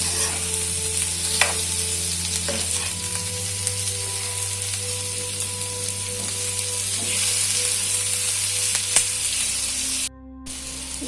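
Masala sizzles and fries in a pan while being stirred, a steady close crackle with scraping strokes throughout, cut by a brief gap near the end.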